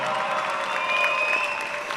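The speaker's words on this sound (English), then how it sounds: "Again, one more time, one more big round of applause." Sustained audience applause at a digital media senior showcase, a dense continuous wash of clapping from a crowd, loud and steady with a few cheers mixed in.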